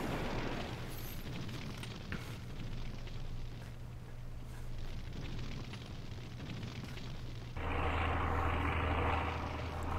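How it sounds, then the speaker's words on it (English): Anti-aircraft fire and bombing rumble through the World War II strategy game Sudden Strike Gold as bombers attack, with a continuous low droning roar of aircraft engines and dull booms, growing louder near the end. "All right, they've already started the anti-aircraft fire."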